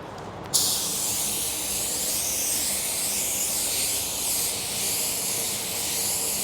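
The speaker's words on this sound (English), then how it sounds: "I'm gonna spray some clear additive." A spray gun spraying clear additive starts with a sharp pop and then hisses continuously and evenly, close by and steady until the end.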